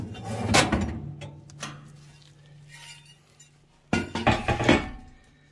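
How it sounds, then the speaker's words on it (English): Metal oven burner lifted out of a Chambers stove, with clanks and scraping metal knocks, a burst of rattling near the end, all close and fairly loud. "Let's take the oven burner out."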